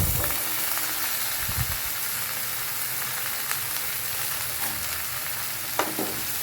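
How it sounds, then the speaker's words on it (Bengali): Kochur loti (taro stolons) fry with onions in a pan, giving a steady loud sizzle with occasional scraping clinks from stirring throughout. "একটু নাড়াচাড়া দিতে হবে যাতে ধরে না যায় পেঁয়াজগুলো।"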